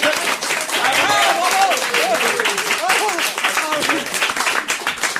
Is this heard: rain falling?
no